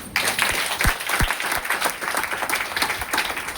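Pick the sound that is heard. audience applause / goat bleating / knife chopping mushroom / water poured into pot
audience applause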